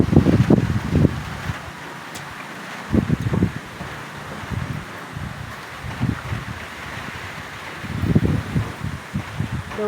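Gusty wind ahead of Typhoon Uwan, rising in rough low-pitched bursts and easing between them over a constant background roar, with no talk.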